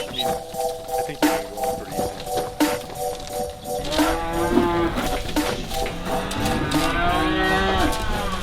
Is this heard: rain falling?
no